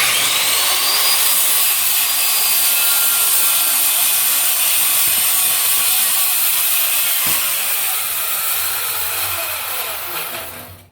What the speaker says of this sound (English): It's a skill saw.